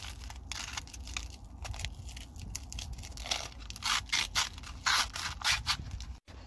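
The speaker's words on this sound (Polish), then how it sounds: "Trzeba sobie zwinąć rulonik," Rolled sandpaper scrubs rust from the inside of a BMW rear brake disc part, a close, continuous scratchy rasping in quick strokes with no talk.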